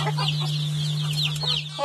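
Hens cluck in quick, overlapping calls, near and clear, over a steady low hum.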